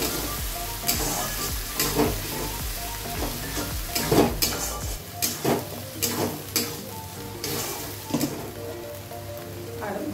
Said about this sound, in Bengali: একটু পেঁয়াজ ভেজে নিলাম। এবার মাংসের মশলাটা আমি বেটে নিয়েছি, দিয়ে দিলাম।